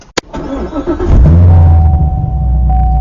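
A C7 Corvette Stingray with Kooks headers cranks and catches with a rising roar, then settles into a deep, muffled idle rumble as heard from inside the cabin.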